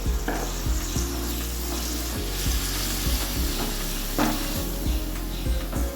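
Spinach hits hot oil in a pan for a palak curry and fries with a loud, steady sizzle, broken by repeated low knocks and scrapes of stirring.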